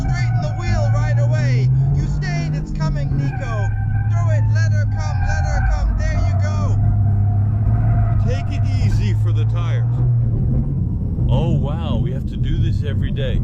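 A Toyota GR Yaris engine drones and rises and falls with throttle changes while driving, heard from inside the cabin under near-continuous talk.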